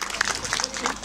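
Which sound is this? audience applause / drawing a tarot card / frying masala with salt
audience applause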